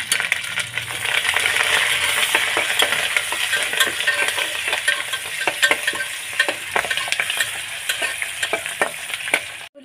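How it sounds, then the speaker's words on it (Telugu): Onions, green chillies and curry leaves fry in hot oil with seasoning seeds, a steady close sizzle broken by frequent clinks and scrapes of a stirring spoon. "తాలింపు గింజలు వేగిన తర్వాత ఉల్లిపాయలు, పచ్చిమిరపకాయలు, కరివేపాకు కూడా వేసుకొని వేపుకోవాలి."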